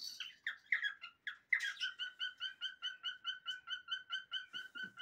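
A pet songbird sings nearby: a few varied chirps first, then a fast, even run of repeated bright whistled notes, loud and clear with no talking.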